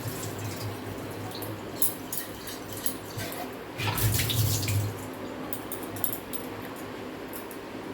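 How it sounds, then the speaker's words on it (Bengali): Empty drinking-water bottles are rinsed under plain tap water in a home kitchen, a steady soft splashing and trickling with a brief fuller gush in the middle, no voices present. "এমনি জলেই ধুয়ে নিচ্ছি, নিয়ে ভালো করে তারপরে ভরে নেব"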